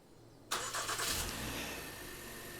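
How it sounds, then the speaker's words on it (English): A Honda Pilot engine starts by remote, a sharp crank-and-catch onset followed by a steady, fairly loud idle hum close by with no talking. "Now let's go ahead and remote start it again."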